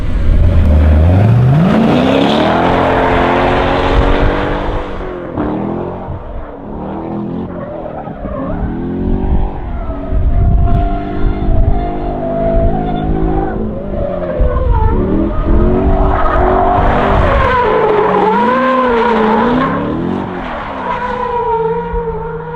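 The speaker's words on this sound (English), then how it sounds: "do a couple figure eights, do some drifting on the skid pad" A Corvette drifts through figure eights on a skid pad, its tires squealing loudly and continuously over a revving, surging engine, with the pitch sliding up and down as the car slides.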